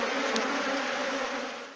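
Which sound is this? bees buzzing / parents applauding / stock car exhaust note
bees buzzing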